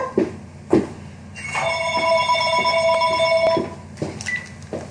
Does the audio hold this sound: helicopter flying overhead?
no